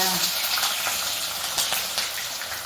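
Onion hisses loudly as it hits hot oil with popped mustard seeds and cumin for kanda poha, a dense close sizzle with faint clicks of stirring.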